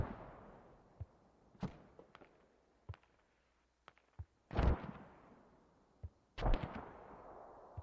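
Mortar rounds thudding during a multiplayer video game battle, several sharp booms spaced irregularly with two heavier, louder blasts, scattered smaller impacts and quieter distant pops between them.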